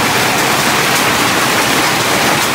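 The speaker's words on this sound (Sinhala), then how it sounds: "එළිය හොද්දන වහිනවා." Heavy rain pours outside a hut in a field in Sri Lanka at night, a dense, even hiss of falling water that fills the whole stretch loudly and without pause, with no talk over it.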